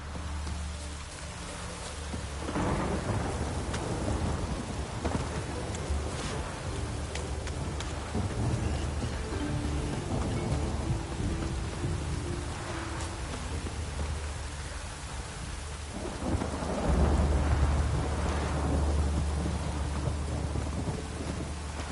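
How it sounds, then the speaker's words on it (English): Steady heavy rain pours throughout in The Witcher 3 while low rumbles of thunder roll in and swell, growing loudest toward the end. "No use doing any work in this rain."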